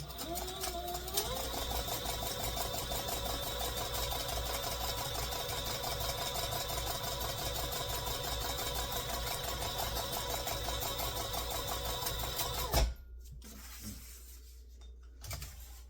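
A sewing machine stitching a bucket bag runs steadily and loudly for about thirteen seconds with a constant mechanical hum and rapid needle rhythm, then stops abruptly, leaving a few faint handling knocks.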